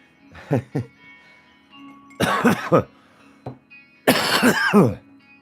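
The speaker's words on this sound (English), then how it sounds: "I still have this lingering allergen cough." Several allergy coughs from a smoker close to the mic in separate bursts: a couple of quick ones, then a heavier cluster, then a final harsh fit, with quiet gaps between.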